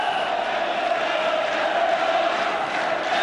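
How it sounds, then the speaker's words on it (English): Massed whistling from a football crowd in a stadium during an Everton versus Liverpool FA Cup replay, a steady, shrill, sustained wash of whistles over broad crowd roar, loud and continuous throughout. "The whistles are ringing out in the crowd"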